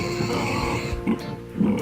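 A voice imitates a pig's oinking in a children's story, with a few short, close grunting oinks in quick succession.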